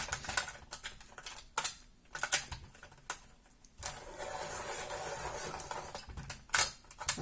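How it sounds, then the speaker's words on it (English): A brand-new pencil sharpener grinds a pencil in several short bursts separated by pauses, scratchy and close, with no talking. "I'm just going to sharpen my pencil"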